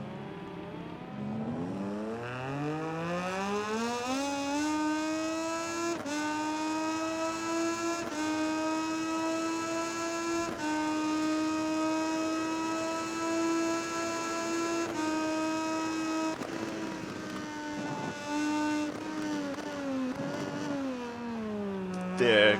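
A MotoGP 19 racing motorcycle engine holds a high, steady rising whine, close and loud throughout, with gear shifts and a final burst at the end.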